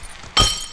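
Glass shatters in the Happy Wheels video game inside a restaurant: a sudden loud burst of breaking glass that rings briefly and decays over a fraction of a second.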